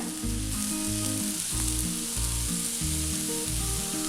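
Soya chunks roast with coconut bits, coriander leaves and green chilli being stirred in a frying pan, giving a continuous sizzle with steady rhythmic scraping, no voices.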